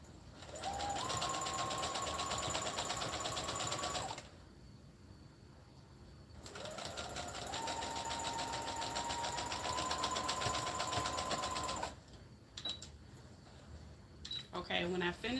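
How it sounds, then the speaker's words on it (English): A sewing machine runs a straight stitch on a knit headband in two long, steady bursts of rapid needle chatter with a rising motor whine, separated by a quiet pause and followed by a few short clicks. "I'm going to go from here to here with a straight stitch to close that part out."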